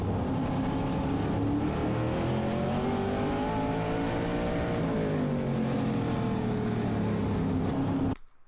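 A race car roars through a short-track dirt oval race at Shasta Speedway, engine note rising and falling steadily as it accelerates and eases through turns, loud and close from onboard, then cutting off abruptly at the end.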